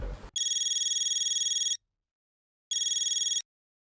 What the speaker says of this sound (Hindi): किसको फोन कर रहे हैं?